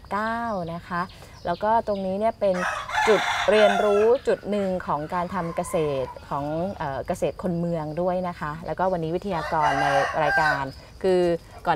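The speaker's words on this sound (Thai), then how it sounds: "เสียงไก่เนี่ยขันอยู่นะคะ" A rooster crows at an urban vegetable-garden farming community in Thailand, heard in the background beneath someone speaking Thai almost continuously in the foreground.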